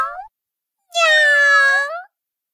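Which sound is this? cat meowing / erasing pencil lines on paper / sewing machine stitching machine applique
cat meowing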